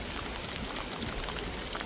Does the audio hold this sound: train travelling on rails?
no